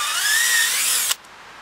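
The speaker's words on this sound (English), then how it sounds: "Once you get the drill bit out, you want to also make sure that you ream it out nice and good" A power drill reams out a tap hole in a maple tree trunk, giving a loud, steady high-pitched whir for about a second before cutting off abruptly into quiet.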